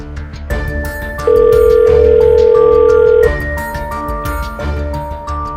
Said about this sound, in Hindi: ऑफिसर दास को फोन लगाकर देखता हूँ।